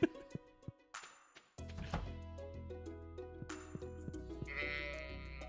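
Sheep bleat in a farm video game, several short cries coming one after another, near and clear over a bright plucked background tune with chopping-like taps.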